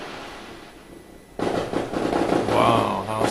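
Fireworks going off outside: a sudden loud onset of crackling, popping bursts after a quiet lead-in, with continuous dense crackle and some whistling tones, fairly close and sustained to the end.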